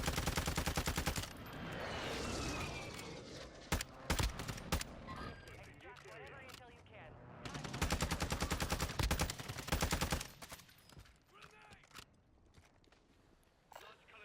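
Rapid, loud automatic gunfire in Warzone 2.0, with sustained bursts broken by short pauses and scattered single shots over game background noise.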